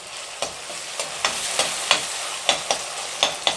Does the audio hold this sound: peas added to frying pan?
yes